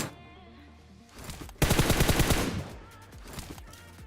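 Heavy gunfire from a PUBG Mobile battle, a loud close burst of rapid automatic shots in the middle, with quieter scattered shots before and after.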